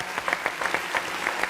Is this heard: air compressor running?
no